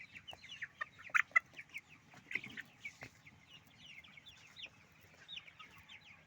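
Sonali chickens cluck and chirp while eating a feed mixed with bran, maize meal and dried fish powder, a scatter of soft near clucks and a few sharper calls, fairly faint overall.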